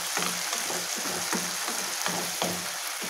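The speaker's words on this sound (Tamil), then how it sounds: "இஞ்சி பூண்டு விழுதோடு சேர்த்தி நல்லா வதக்கிக்கலாங்க." Ginger garlic paste frying with tomatoes in hot oil for a pigeon pea masala curry, a constant close sizzle with regular scraping stirs about every half second, no voices.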